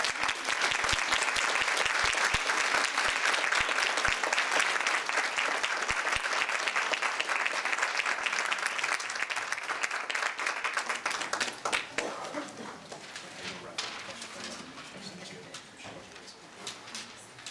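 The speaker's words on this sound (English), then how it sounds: "How about a round of applause?" Audience at a Bancroft Unplugged benefit event in Cherry Hill applauding loudly and steadily for about twelve seconds, then the clapping thins and fades toward the end.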